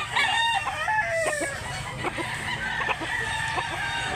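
Roosters at a Cebu chicken market crow in overlapping calls while chickens cluck nearby, a dense, loud stream of bird calls over a steady background murmur.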